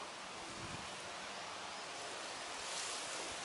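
A soft, steady outdoor wind breathes and hisses at low volume, swelling slightly toward the end with no voices present.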